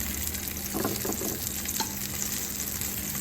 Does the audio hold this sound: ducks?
no